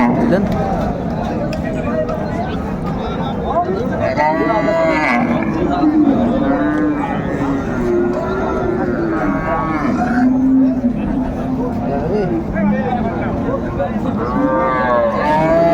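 Cattle mooing repeatedly at a busy village livestock market in Dinajpur, cow and calf among the herd, loud and near, with calls overlapping steady crowd chatter and bargaining voices throughout.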